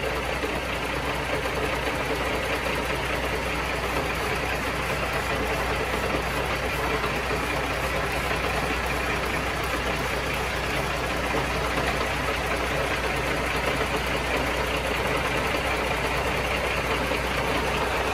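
Truck engine idling steadily with a compressed-air leak hissing from the air system, a constant dense drone and hiss with no change throughout, close and loud, no talking.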